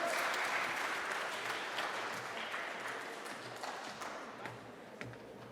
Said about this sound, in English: Come on down, give them a round of applause.